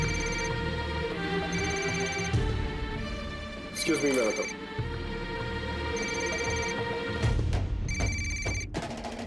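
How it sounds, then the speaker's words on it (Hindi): A mobile phone rings in a home, repeating bursts of electronic ringtone tones in a regular pattern, close and clear, while people talk over it. "तुम्हारा फोन कब से बज रहा है?"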